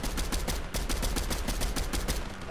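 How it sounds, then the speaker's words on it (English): Rapid bursts of gunfire in the video game Fortnite crackle loud and close in dense, repeated volleys, with no pauses across the whole stretch. "I hear gunshots."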